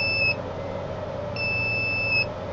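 A solar inverter's low-voltage alarm, in a setup with a 16 V 500 F super capacitor battery, gives two long steady electronic beeps, the first cut short near the start and the second lasting about a second, over a constant low hum.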